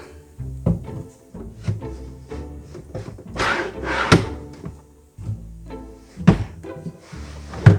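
Drawers of a flat-pack IKEA furniture unit being forced shut, with repeated heavy wooden thunks and rubbing scrapes close by, some harder knocks standing out, and no voices.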